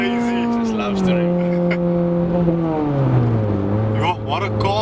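A Honda Civic Type R with a 2-liter engine cruises through traffic. Its engine drone sinks as the car slows, then climbs again under acceleration, loud and close, with a brief dip near the end.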